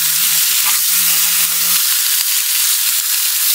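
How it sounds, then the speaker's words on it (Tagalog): Potatoes sauté in a pan with a loud, steady, close sizzle and hiss that fills the whole stretch. A faint low hum comes through early on. "lutuin ko yung patatas na ilalagay ko. Gigisa ko."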